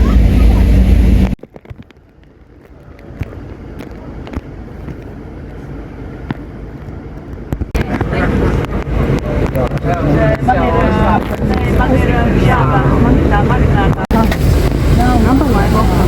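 A motorboat engine drones steadily with wind buffeting the microphone, growing rougher and louder partway through, with voices heard over it.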